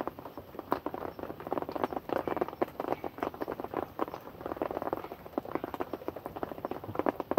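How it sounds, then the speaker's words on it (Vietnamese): Heavy rain falling during a fishing outing, a dense, steady patter of drops with scattered sharper taps, moderately close and continuous throughout, with no talk. "Mưa to mất rồi."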